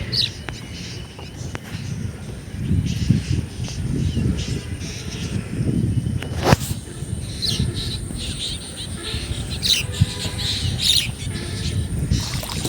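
Migratory birds at a flooded wetland in Bangladesh give scattered high chirps and calls at a distance, over a constant insect buzz and a low background hum.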